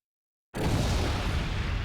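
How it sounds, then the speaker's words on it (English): An explosion in a Xenoblade Chronicles X cutscene bursts in abruptly after half a second of silence, then holds as a loud, dense rumbling blast for the rest of the moment. "Explosion."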